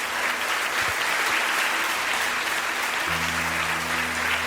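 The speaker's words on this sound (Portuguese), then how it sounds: "Vamos aplaudir o Senhor bem forte." A church congregation applauds strongly during a worship service, a dense, continuous wash of clapping that holds steady the whole time, with a soft sustained musical tone underneath.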